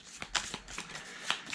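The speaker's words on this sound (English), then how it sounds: "You shuffle those cards up." G.I. Joe deck-building game cards are shuffled by hand, giving soft riffling and slapping noises in quick irregular bursts, close and fairly quiet, with no speech over them.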